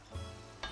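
Rice and tender beef stirred in a cooking pot for a tas kebab pilaf, two brief scraping stirs close by with a soft rustle between, no voices.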